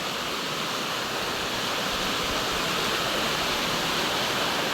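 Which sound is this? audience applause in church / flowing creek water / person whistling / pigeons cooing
flowing creek water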